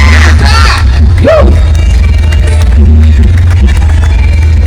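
Loud crowd cheering and whooping at a village cultural festival in Wanurejo, Borobudur, Magelang, over a heavy low rumble of the sound system, with one rising shout standing out early on.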